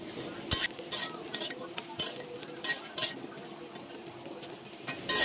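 Dried ghonia fish frying in a kadai over low heat, with a soft background sizzle broken by repeated short scrapes and taps of a spatula stirring the pan, close and moderately loud.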